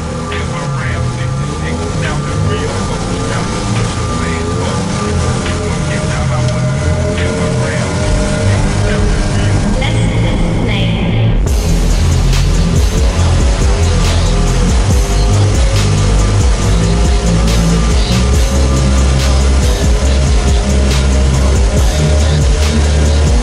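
A Volkswagen Golf drives through a winter quarry, its engine and road noise loud and constant, swelling briefly midway as it revs, with no pause throughout.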